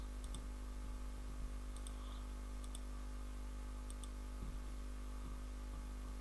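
A computer mouse clicks faintly in quick pairs, several double-clicks spaced a second or so apart, over a steady low electrical hum and quiet hiss.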